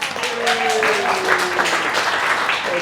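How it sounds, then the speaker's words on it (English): Audience applause at a health talk, a steady wash of clapping that fills the whole stretch at moderate loudness, with a faint tonal whistle or feedback line drifting through it. "Please give them a round of applause."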